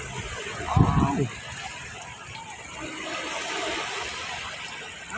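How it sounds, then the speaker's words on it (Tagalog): Ocean waves roll and wash onto a beach at Dalampasigan, Sariaya, a steady broadband surge with a brief exclamation from a person near the start. "Mawari ang malaking alon."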